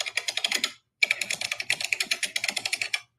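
Rapid keystrokes on a computer keyboard, loud and close, in two bursts separated by a short pause of silence, with no talking.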